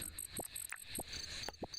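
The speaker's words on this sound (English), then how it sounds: "All right, too many crickets." Crickets chirp in the Dinkum video game: four short, regular chirp bursts about every half second over a steady high insect trill, no talking.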